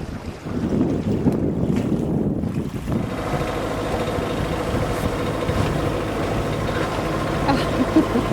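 A sailboat under way in light wind after leaving Sidney Spit: steady wind buffets the microphone over a soft wash of water along the hull, and faint voices may be mixed in.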